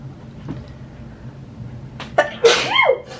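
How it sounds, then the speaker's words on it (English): A single sharp sneeze follows a quiet room, an abrupt breathy burst close to the microphone, set off by setting spray during a makeup routine. "I'm gonna sneeze every time"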